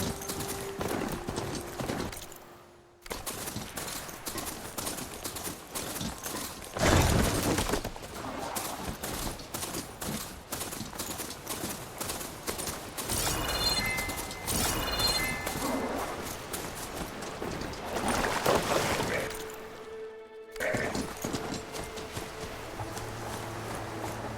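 Horse hooves in Horizon Forbidden West, a steady rapid clip-clop of galloping over game ambience and bursts of combat noise, mid-loud, with brief pauses and no one talking.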